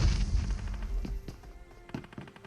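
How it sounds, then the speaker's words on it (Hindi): Grenade blasts in a PUBG-style battle game, several sharp booming thumps in quick succession with rumbling low-end tails over a busy gameplay background, no speech. "इसके पीछे बंदा था, मैंने ग्रेनेड ज्यादा ही कुक कर दिया।"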